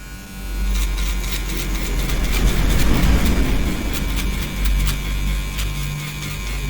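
An Alantruman 708 electric shaver runs close by with a steady buzzing drone that swells slightly in the middle, with no talking.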